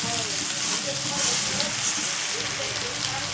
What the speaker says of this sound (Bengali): এখন চিড়েটাও ঢেলে দেবো।